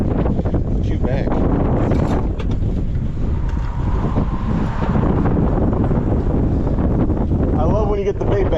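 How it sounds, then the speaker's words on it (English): Strong wind buffeting the microphone on a fishing boat out sheepshead fishing after a hurricane, a steady loud rumbling roar throughout with faint voices underneath. "That wind."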